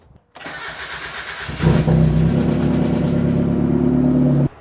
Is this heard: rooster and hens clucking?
no